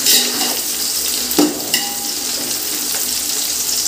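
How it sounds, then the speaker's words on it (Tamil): Onions fry with a steady, loud sizzle in a pan for chicken biryani, with a few soft scrapes and clinks from stirring as they turn golden brown. "இது பார்த்தீங்கன்னா நல்ல கோல்டன் ப்ரௌன் கலரில் நல்லா வதங்குற வரைக்கும் இதை நல்லா மிக்ஸ் பண்ணி விட்டுக்கோங்க"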